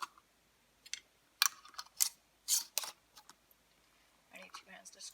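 Metal lids being screwed down onto glass canning jars while peach almond conserve is home-canned, giving sharp scraping clicks and short ticking bursts spaced irregularly, close and fairly quiet against a still room.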